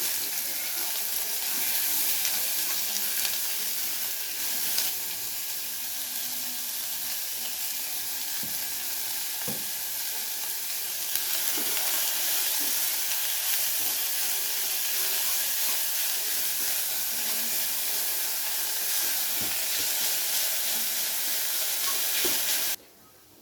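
Chopped onion frying in hot oil in a kadai for a fish curry, giving a loud, steady hiss that runs unbroken and close for over twenty seconds with occasional faint clicks of stirring, then stops abruptly.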